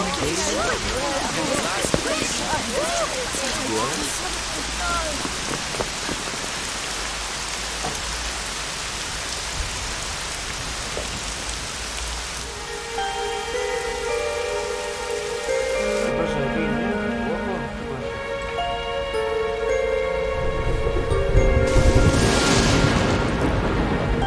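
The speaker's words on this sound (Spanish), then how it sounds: "Empieza a llover." Steady rain patters down in the video game Dragon Quest XI, a dense hiss filling the scene for many seconds, later thinning under swelling game music.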